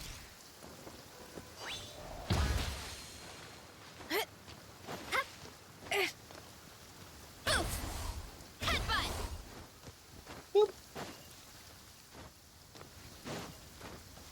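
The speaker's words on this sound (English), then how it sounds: "It's raining!" Rain falling outdoors during a lantern light event, a steady wash punctuated by several sharp gusts and bursts, with a brief voice heard once.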